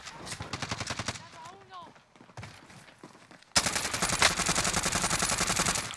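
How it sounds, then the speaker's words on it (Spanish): Bursts of automatic gunfire in a Warzone battle royale match, rapid rattling volleys sounding at mid distance, then a louder, sustained barrage of close fire with overlapping shots. "salen disparando automático para donde están"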